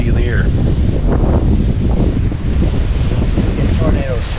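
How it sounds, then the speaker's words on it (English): Strong storm wind of about 50 miles an hour roars and buffets a microphone outdoors in tornado country, loud and continuous, while people talk over it. "it's like 50-mile-an-hour wind all of a sudden"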